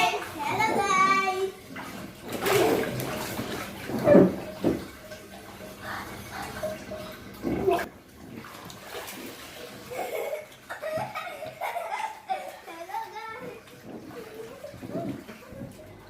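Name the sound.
two children splashing while bathing in a pond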